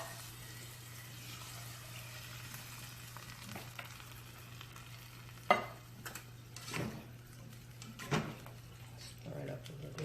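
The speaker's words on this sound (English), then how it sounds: "Stir it up a little" Del Monte green beans cooking with bacon in a pot on the stove are stirred, giving a few sharp scraping knocks and soft sloshing over a faint, steady sizzle and low hum.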